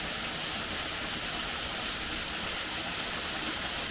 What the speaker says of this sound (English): As you can see, it's a beautiful waterfall.